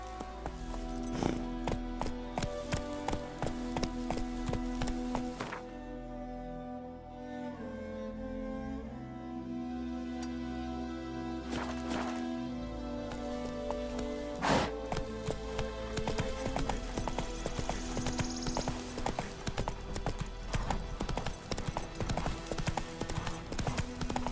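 Steady clip-clop of horse hooves as a mount is ridden in The Witcher 3 video game, a continuous rhythmic trot under a busy game soundscape with brief vocal calls.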